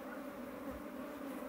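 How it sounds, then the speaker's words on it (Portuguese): Italian honeybees buzz steadily around a beekeeper's veil beside an open hive, a close, continuous drone with a few bees passing nearby. "Vem algumas abelhas só, né, que tá vindo na máscara."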